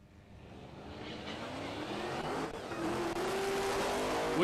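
Drag racing cars, a Camaro and a Club Sport, launching at Palmyra Dragway, engine roar building steadily louder with a rising whine near the end, heard at a moderate distance with no talk.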